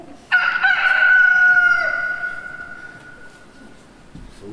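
A loud rooster crow played as a theatre sound effect rings out once in a single long call that fades over a few seconds, with no talking.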